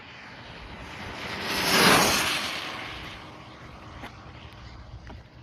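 A Rlaarlo SBK10 RC car on a 4S speed run at full throttle, a high whining motor that rises as it passes close and fades into the distance, with wind noise in the background.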